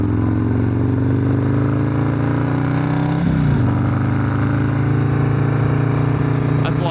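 Custom Perewitz Harley-Davidson Softail Slim engine running steadily and loud throughout, its pitch climbing slowly, dipping briefly midway, then holding strong again, with a short sharper burst near the end.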